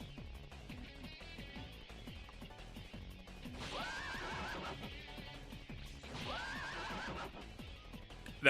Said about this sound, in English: That incredibly loud horse noises